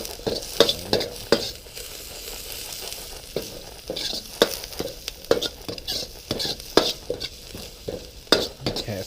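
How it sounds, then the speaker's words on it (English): Onions sweat in a wok set on a Blackstone Tailgater griddle outdoors, a steady sizzle broken by repeated sharp scrapes and clacks of a spatula stirring against the metal, close and fairly loud with no talking. "So I want to sweat my onions"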